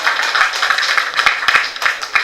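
Audience applause at a press meet for the film Inspector Surya, a crowd clapping steadily and loudly with dense overlapping claps throughout, heard close and alone without talk.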